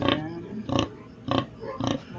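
Pigs in pens on a family farm in Ilocos Sur give four short, evenly spaced grunts up close, each a brief rough burst with quiet between.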